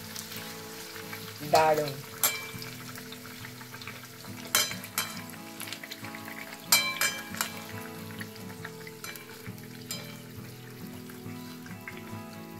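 Green pea stuffed kachori deep-fry in hot oil, giving a steady close sizzle and crackle with occasional sharper pops and spatters, and a brief spoken word partway through.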